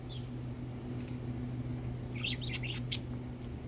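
A budgie flock gives a run of bright, quick chirps and tweets clustered near the end, moderately close, over a steady low hum with no talking.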